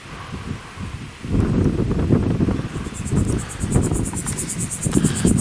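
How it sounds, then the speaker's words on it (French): Strong cold wind blusters outdoors with rough, gusty low buffeting against the microphone, rising after a brief lull, while a high, rhythmic chirping like insects pulses faintly above it. "il fait très froid, beaucoup de vent"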